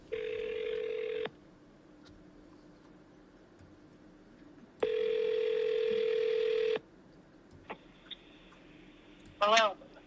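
A telephone call to a rural number in the 812 area code: long, steady ringback tones sound close and clear with quiet gaps between them, a third ring begins, and a short electronic chirp follows near the end. No one speaks.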